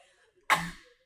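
One sudden, sharp sneeze bursts out at close range and fades quickly, alone in an otherwise quiet room.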